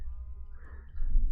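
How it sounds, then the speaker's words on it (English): Short sheep bleats from a Minecraft farm barn, a couple of tonal calls up close with a low background hum and a brief louder burst at the end. "Sheep are here."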